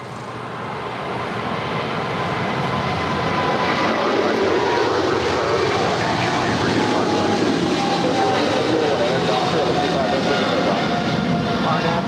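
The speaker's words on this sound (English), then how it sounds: "the 777, China Southern Cargo 777 now rolling down 25 left" A China Southern Cargo Boeing 777 takes off from runway 25 left at LAX, its engines building into a loud, sustained roar that swells over the first few seconds and then holds steady and broad throughout.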